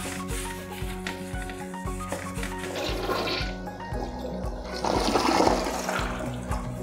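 A toilet flushes up close during cleaning, water rushing and swirling loudly before draining away, with some rubbing noises mixed in.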